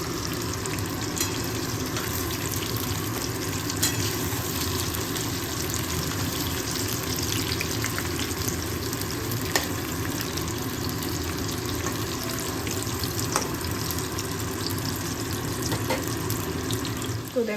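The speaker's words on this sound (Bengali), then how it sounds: "সর্ষের তেল, এটা একটু গরম হলে তার মধ্যে এই যে শুকনো আমগুলো দিয়ে দেবো" Dried raw mango pieces frying in hot mustard oil, a steady, even sizzle and crackle that runs unbroken throughout, close and moderately loud with no talking.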